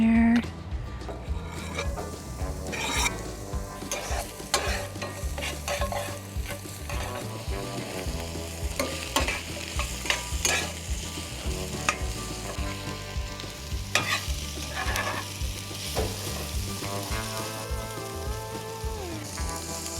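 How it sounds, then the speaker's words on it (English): Green beans frying in a pan on a camp stove while being stirred, giving a steady loud sizzle throughout with repeated scraping and clattering strokes and occasional faint talk. "We got the green beans going."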